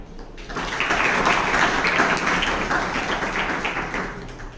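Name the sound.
audience applause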